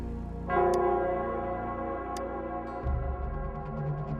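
A bell rings in Nell Square in the video game Wuthering Waves, starting with a sharp struck onset and then sustaining a rich, humming tone over a low drone that shifts partway through.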